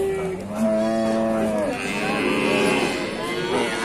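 A cow, called a mysterious bull, gives a long drawn-out moo, followed by a second rougher lowing call, fairly close and loud over faint background noise.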